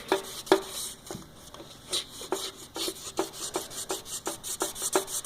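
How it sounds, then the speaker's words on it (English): A rag rubs and wipes inside a 5.0 engine around the piston and rod bearing area. It makes a close series of rhythmic scrubbing strokes with uneven, rasping pulses, and no voices are heard. "Take you a rag, get in there. You're gonna clean that bad boy up."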